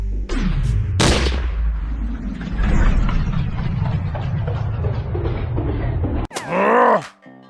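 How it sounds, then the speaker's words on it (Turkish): Sniper shots in Minecraft ring out as a few sharp, loud cracks with a grinding, groaning noise between them, and a final shot is followed by a warbling tone. "Keskin nişancı."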